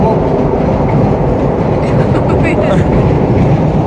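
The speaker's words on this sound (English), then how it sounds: "There's a train above, so it's really loud." Loud, steady rumble of a train passing close overhead near Edinburgh's Forth bridges, a dense low roar that never lets up, with faint rattling and clatter mixed in.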